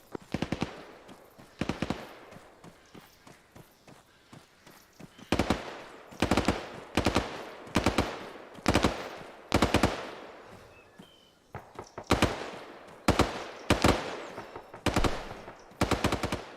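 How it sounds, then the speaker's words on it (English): Machine-gun fire in the military game Arma, rattling in repeated loud bursts of rapid shots with short pauses between them, fairly close and with no talking over it. "MG is firing"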